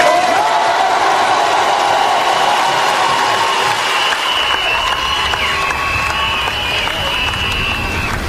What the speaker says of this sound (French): ayons une salve d'applaudissements